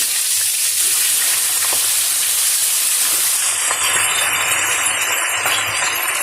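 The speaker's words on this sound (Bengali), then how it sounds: "চিকেনটা একটু ভাজা ভাজা করে নিচ্ছি" Chicken pieces frying in ghee and oil with whole cumin tempering, producing a loud, dense, continuous sizzle close to the pan that holds steady throughout, with no voices.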